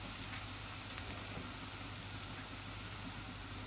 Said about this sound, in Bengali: আমি এখনই চিংড়ি মাছটা দিয়ে দিচ্ছি।